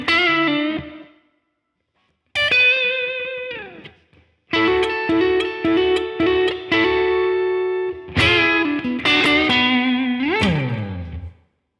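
Electric guitar through distortion and effects plays a minor slow blues lick, with a few sustained bent notes and short phrases, then a longer run of ringing notes and chordal stabs, loud and close with reverb tails.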